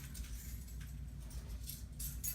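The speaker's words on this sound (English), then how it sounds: "Got my keys" Keys jangle close by, a soft ongoing metallic clinking and rattling with a few brighter chimes near the end.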